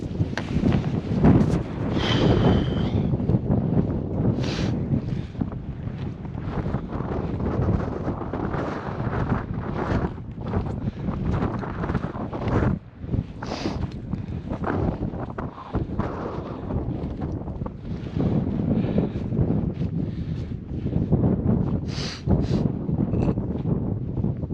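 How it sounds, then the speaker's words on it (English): Strong wind on the top of Knockshanahullion mountain buffets the microphone continuously, with gusty roaring and rumbling low noise throughout, loud and unbroken. "It's a bit windy. Wasn't supposed to be this windy"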